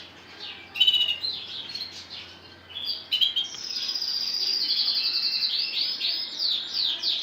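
A lemon Lancashire canary sings close by, about a metre away, with a continuous run of bright warbling trills and chirps that begins in short bursts and grows into a sustained, loud song.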